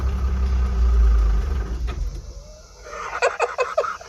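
A vehicle engine shudders and dies as the clutch is let out in fourth gear with the brake held, a loud low rumble fading out, followed by rattling, knocking bursts.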